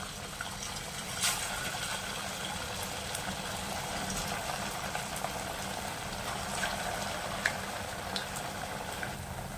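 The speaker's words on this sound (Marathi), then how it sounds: "आणि आता आपण वडे तळायला घेऊया." Medu vada for a fast, made from vada batter, frying in hot oil on a high flame: a steady, even sizzle and bubbling hiss runs throughout, close and moderately loud, with occasional faint pops and no talk.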